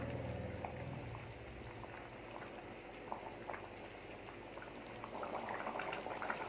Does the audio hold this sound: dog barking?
no